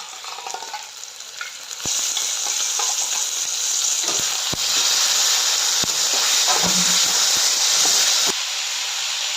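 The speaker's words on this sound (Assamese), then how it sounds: "চিকেনখিনি মই সৰু সৰুকৈ টুকুৰা কৰি লৈছোঁ। এতিয়া ইয়াত দি দিলোঁ।" Small chicken pieces hit hot oil with ginger, tomato and green chili for a palak chicken dish, a loud continuous sizzle that swells after a couple of seconds, with occasional sharp clinks of utensils close by.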